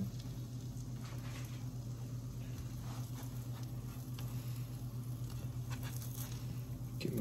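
Grilled cheese sandwich frying in butter in a hot pan, a steady soft sizzle and patter throughout, fairly quiet and close with no talking.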